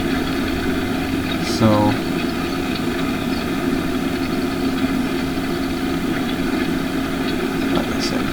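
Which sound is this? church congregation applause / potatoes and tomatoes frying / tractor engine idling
tractor engine idling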